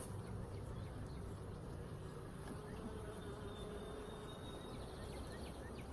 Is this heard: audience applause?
no